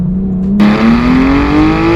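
A Porsche 991.1 GT3 engine fires up and revs, a loud, close mechanical roar whose pitch climbs smoothly over about two seconds as it accelerates.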